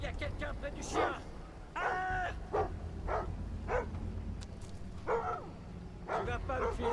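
A dog barks in the stealth video game Thief, a series of sharp, fairly loud barks repeating irregularly over a low background hum, with some yips between them.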